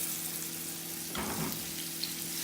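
Rib eye steak searing in a hot pan, a steady close sizzle with a brief swell of louder spattering midway, no talking.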